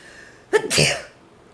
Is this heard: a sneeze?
yes